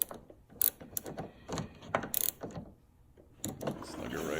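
A ratchet snugs up the bolts on the headlight assembly of a Dodge Journey or Fiat Freemont, making close, quick clicking bursts in short runs with brief pauses between them.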